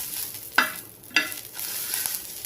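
Green chillies roast in a pan, giving a soft, steady sizzle with two sharp scraping stirs spaced about half a second apart, close by and without any voices.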